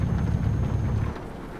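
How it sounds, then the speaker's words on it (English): Rain and thunder in the truck-driving game Euro Truck Simulator 2: a steady, loud wash of rain with a deep rumble that fades slightly partway through, heard alone without talk. "There's the rain."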